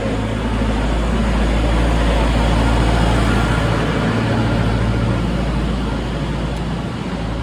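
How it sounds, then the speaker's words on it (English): A tractor passing by a football club's training pitch during renovation work, a loud, steady low engine rumble that holds throughout with no talk over it. "Let this tractor go past."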